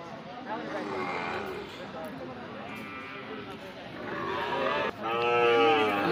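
Sahiwal bulls at a rural cattle market low in long, resonant moos, several calls rising over a steady crowd murmur and voices talking nearby.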